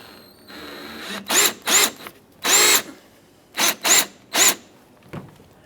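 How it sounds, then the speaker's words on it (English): A power drill drills out a plastic rivet on a Jeep Grand Cherokee front grille bracket, whirring in six short, loud bursts of about half a second each, separated by pauses, with a final faint burst near the end. "just go ahead and drill out the center and remove the outer portion as well"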